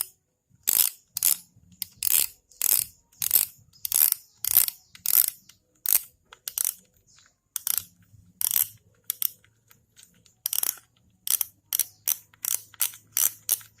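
Sharp metallic clicks and ratcheting snaps come in quick irregular bursts as the spool is taken off a Daiwa RX 2500BI spinning fishing reel, close and dry with no talking.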